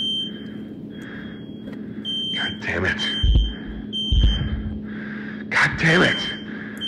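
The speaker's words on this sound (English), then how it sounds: "I also apologize for the fire alarms" A fire alarm beeps over and over in a Five Nights at Freddy's VHS-tape horror game, a steady repeating electronic chirp that runs through the whole stretch while a man swears loudly over it.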